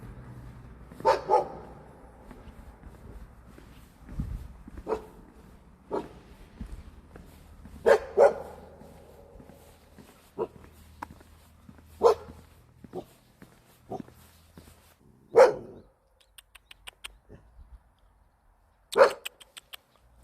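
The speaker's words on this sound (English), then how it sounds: "Is that a loose dog? Guys, you hear that?" A loose dog barks on the Haeparang Trail, a Korean hiking route: a dozen or so sharp barks at irregular intervals, some close and loud, others softer, with a few whimpering yips between them and no talk.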